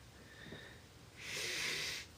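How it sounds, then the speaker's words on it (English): Someone takes one long, close, soft sniff of a bar of organic peppermint soap in a quiet room, after a brief faint breath. "like sniffing this peppermint."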